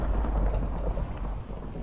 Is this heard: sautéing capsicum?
no